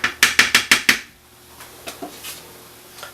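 A lid goes onto a pan of chicken tikka masala cooking over high heat: a quick run of six sharp metallic clinks and rattles, then a few fainter knocks over a quiet sizzle.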